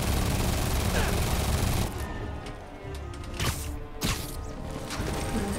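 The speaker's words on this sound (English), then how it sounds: "they just shoot you from above then" Enemy gunfire in Marvel's Spider-Man Remastered, a dense rattling volley of shots that gives way to scattered, sharper bursts and impacts, loud and close amid busy game action, with no talk.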